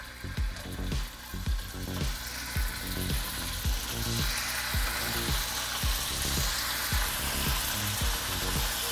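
Lamb searing in hot extra virgin olive oil in a pan, with a steady loud sizzle broken by repeated scraping or turning sounds, no talking.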